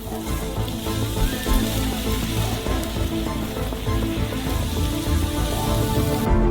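A steady, loud sizzling hiss as a burning log is plunged into fish soup, crackling continuously throughout.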